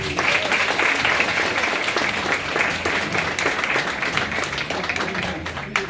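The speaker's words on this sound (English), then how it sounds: "let's give them a round of applause." Audience applause at a school event, steady dense clapping from many hands that fills the whole stretch at a fairly loud level, with little else over it.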